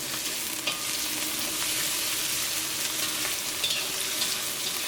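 Onions frying in oil with crushed garlic and curry leaves, a steady close sizzle with occasional stirring scrapes for a chicken curry, no talk.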